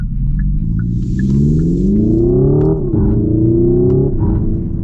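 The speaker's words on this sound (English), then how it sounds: "It sounds like you had a pretty beefy engine rumbling up front." A deep, continuous simulated engine rumble from a 2025 Hyundai Ioniq 5 N electric car, rising steadily in pitch as if accelerating, with a brief dip midway, loud and close with no talking.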